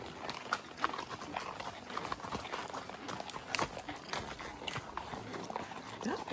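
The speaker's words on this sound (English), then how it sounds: "We're riding north out of Big Creek, looking for Susie." Horses' hooves clip-clop on a trail ride with about twenty riders among pine trees near Big Creek, Missouri, making an uneven patter of many hoofbeats over outdoor ambience.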